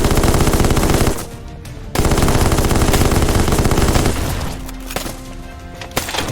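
Sustained machine gun fire in the video game Black Skylands, loud close rapid bursts that stop, resume for a few seconds, then trail off into scattered shots and metallic clinks.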